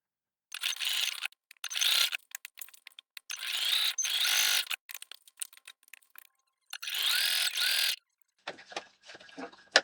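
A sewing machine stitches around the outside edge of a fabric alphabet cushion, running in several rapid mechanical bursts separated by short pauses, close and moderately loud with no voices.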